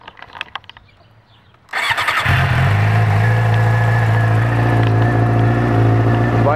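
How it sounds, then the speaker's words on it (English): A Suzuki GSXR motorcycle with a faulty gauge cluster cranks briefly after some clicks, then fires up quickly and settles into a loud, steady idle close by. "the bike will still start up. As you can see, it started up real quick."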